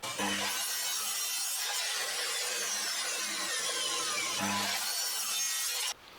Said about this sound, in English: So I've made some copper on the chop saw.